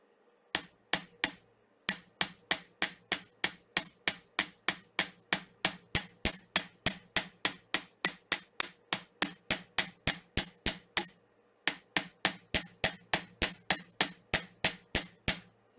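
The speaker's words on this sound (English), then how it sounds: "Mostly I'm just hammering the curve, and I'm tapping slightly into the straighter area." Small hammer blows shape the curve of a metal pendant, dozens of crisp, evenly spaced taps ringing out close and alone, with a brief pause before the tapping resumes.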